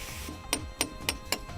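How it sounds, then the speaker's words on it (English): A chase cutter cuts grooves into an AAC block, heard as four evenly spaced sharp mechanical clicks or scrapes over a low, steady hum, fairly quiet and with no talking. "A chase cutter can easily cut grooves as required."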